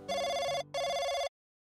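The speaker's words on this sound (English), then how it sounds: "Her phone rang." A telephone rings in two loud electronic bursts with a brief gap between them, then stops; no one talks.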